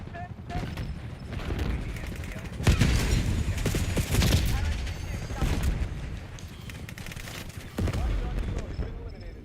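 Heavy gunfire in Call of Duty Black Ops 6 rattles in dense, loud bursts of rapid shots, rising and falling in waves over a busy combat soundscape with short pauses between volleys.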